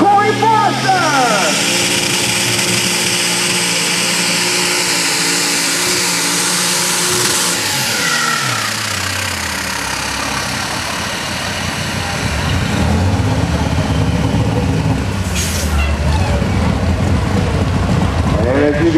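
An alcohol-powered super stock pulling tractor roars loudly at a pulling event, its engine pitch rising and falling through a run, with an announcer talking over the noise.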